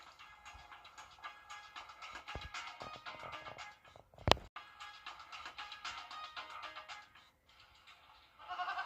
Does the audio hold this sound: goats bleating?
yes